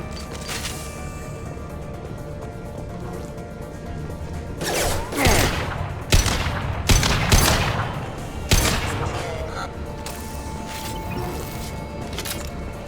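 Gunfire in the video game Mass Effect 2: several sharp bursts and booming shots cluster in the middle of the clip over a steady background of combat ambience, loud and close.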